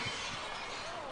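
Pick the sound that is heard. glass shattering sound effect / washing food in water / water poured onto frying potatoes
glass shattering sound effect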